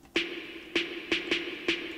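Electronic snare drum sample from a trap-style beat remake, processed with a limiter, reverb and maximizer: five sharp, bright hits with a tonal ring, struck at an uneven syncopated rhythm, loud and alone with a short decay.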